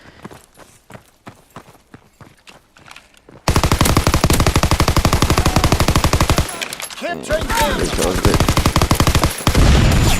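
Call of Duty WWII gunfire: a few spaced shots at first, then a long loud burst of rapid automatic fire, a brief lull with other game effects, and another close burst at the end.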